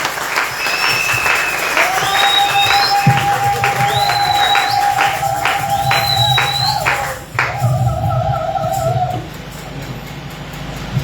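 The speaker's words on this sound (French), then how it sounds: "on acclame le Seigneur très fort" A church congregation at a pastor's jubilee claps and cheers loudly and steadily for the Lord, with whistles and shouts rising over the applause, which briefly dips before building again.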